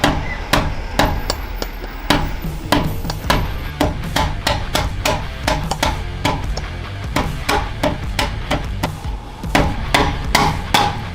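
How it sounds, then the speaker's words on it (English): Steady, repeated hammer blows on a rubber block against a car exhaust tip on a BMW M3 or M4, dozens of sharp thuds in an uneven rhythm, close and loud with no talking. "place it behind the exhaust tip and hammer away and it'll slide off"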